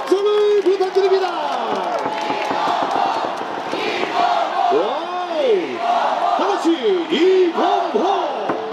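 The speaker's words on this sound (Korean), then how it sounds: "여러분 다시 한번 큰 박수와 함성을 부탁드립니다." A stadium crowd at a baseball championship ceremony cheers and applauds loudly and continuously, with chanting voices and shouts rising and falling over the roar.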